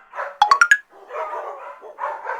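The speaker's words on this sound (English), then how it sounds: "He followed the barking noises" Several high, sharp yips from puppies in quick succession, with softer whining and murmuring voices around them.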